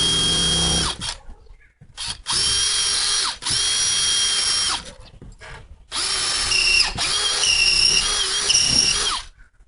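A power drill with a skinny bit bores a bolt hole, likely through plexiglass, during an exterior overhead electric service panel installation; several loud sustained whirring bursts start and stop with short pauses between them, close and alone.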